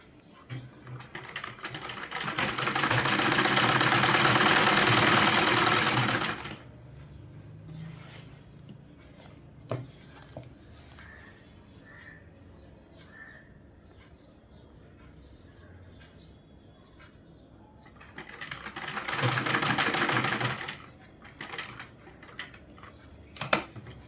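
A sewing machine stitches a satin petticoat in two loud bursts of rapid, even whirring, separated by a quieter stretch of handling clicks and someone talking softly.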